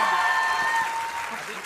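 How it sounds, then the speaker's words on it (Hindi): Studio audience applause during a Hindi television debate show, a steady wash of clapping heard for under two seconds at moderate loudness, with a sustained tone and some voices mixed in. "ताली तो बजाइए जोर से"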